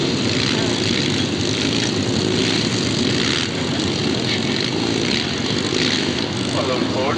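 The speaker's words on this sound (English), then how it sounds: "notice how the riders open their throttle and pull back hard on the handlebars to land rear wheels first" Motorcycles at a 1985 Royal Welsh Show jump display roar continuously as riders open the throttle, a loud, steady engine drone with a rising rev near the end, heard at a distance over crowd noise and a voice.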